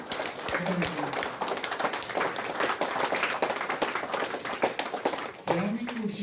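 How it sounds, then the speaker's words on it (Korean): Clapping from the audience at the opening ceremony of the Syngman Rhee VR memorial hall comes in uneven bursts of hand claps, with someone speaking over the applause through much of it. "여러분 김길자 사랑의 회장에게 응원의 성원의 박수를 부탁드리겠습니다"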